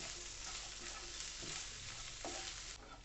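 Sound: stirring raw banana with spices in frying pan

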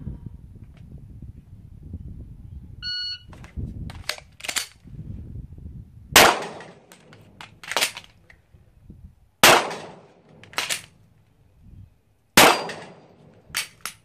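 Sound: three gunshots at live fire shooting practice

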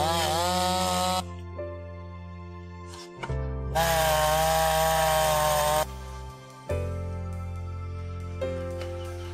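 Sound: sawing through a smaller wooden log

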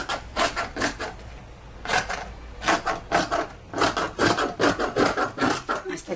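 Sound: cutting fabric for a long sleeve

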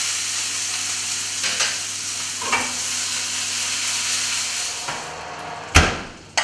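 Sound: whiting fish sizzling while pan frying

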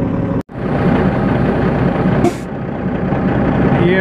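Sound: red Peterbilt truck engine running

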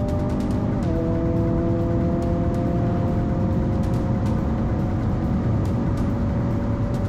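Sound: Hyundai Kona N accelerating at full throttle on a straight

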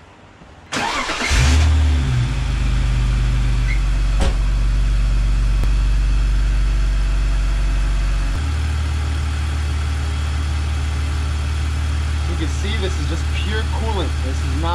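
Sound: BMW E46 wagon engine started and running

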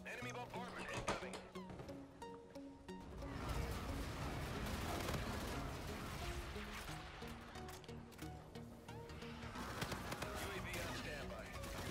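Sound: enemy bombardment in video game Call of Duty Infinite Warfare

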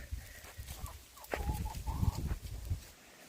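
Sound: rooster

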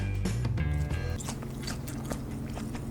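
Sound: biting and chewing crispy air-fried food

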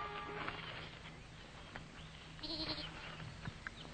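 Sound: goat bleating

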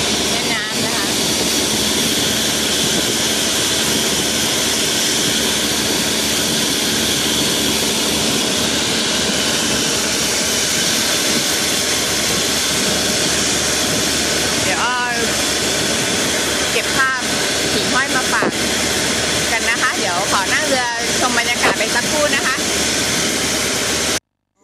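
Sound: boat engine during a river boat ride

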